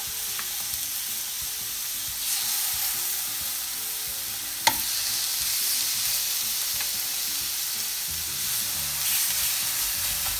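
Chicken sizzling in oil in a hot frying pan, a steady loud crackling hiss throughout with one sharp click midway and no one talking.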